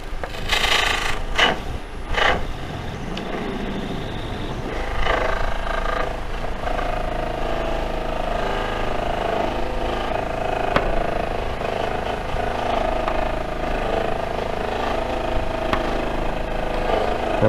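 A Beall buffing wheel spins while a piece is pressed against it, polishing the inside. A few sharp rubbing scrapes come first, then a steady, fairly loud whirring drone continues alone.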